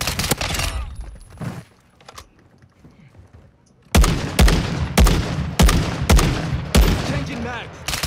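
Gunfire from a first-person shooter video game rings out in rapid bursts of sharp, loud shots after a quieter stretch with keyboard clicks, the volleys coming close together in the second half.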